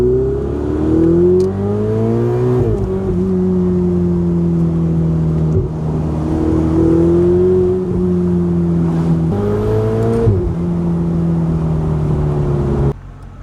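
A Ferrari Spider supercar's engine fires up close by and holds a loud, throaty idle, then rises and falls through several revs with a sharp blip near the end, and nobody speaks.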